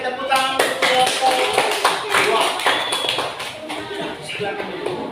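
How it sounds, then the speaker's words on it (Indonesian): Students in a classroom clap for a group after its presentation, giving a short burst of brisk, irregular handclaps with voices mixed in. "terima kasih, tepuk tangan untuk kelompok"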